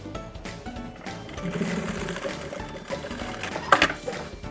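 Sewing machine stitching the lining of a handmade bag, rapid mechanical clatter in short uneven bursts with brief pauses, close and fairly loud, no talking.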